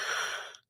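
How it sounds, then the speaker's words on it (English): A person yawning, one drawn-out breathy exhale that fades to silence, close and soft. "I try not to yawn, but it's been a long day."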